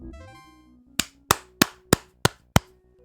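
A person claps their hands six times in a steady, evenly spaced rhythm, sharp and close, after a brief electronic game tune from StarFox 2 that fades out.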